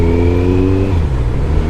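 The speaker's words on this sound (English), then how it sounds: "God, this bike sounds good." A Kawasaki Concours GTR 1400 motorcycle engine revs up with a rising tonal note that then drops back into a steady, close, loud rumble.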